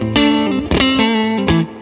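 Electric guitar played through the vintage channel of a Fender American Special Mustang amp, a short run of bright chords and notes with effect and light drive, loud and alone without talk.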